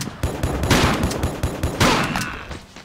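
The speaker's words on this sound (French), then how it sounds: "Attendez, fusil à pompe" Loud shotgun blasts from Tomb Raider 4 gameplay, a rapid run of sharp booming shots in close succession with a heavier burst near the end, then fading.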